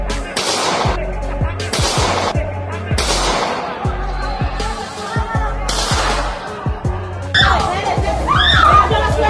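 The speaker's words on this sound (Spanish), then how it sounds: "desde aquí nos están disparando" Police gunfire at a street protest during a national strike in Cali, with a string of sharp, loud bangs spaced a second or two apart over excited shouting and talk.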